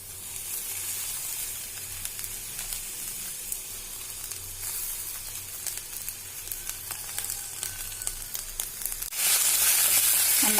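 Drumstick leaves stir-fried in a hot pan give a continuous close sizzle and hiss with small scraping stir noises, growing to a louder, brighter frying burst near the end.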